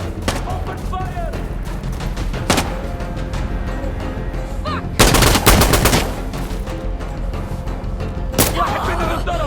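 Gunfire from the video game Insurgency Sandstorm: steady rattling bursts of rifle and machine-gun fire, with a loud, dense volley near the middle and scattered sharp shots around it, plus occasional shouted voices.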